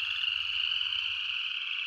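A thriving colony of toads in the badlands of Makoshika State Park, Montana, gives a loud, continuous, deafening trill of overlapping croaks that holds steady throughout with no pauses.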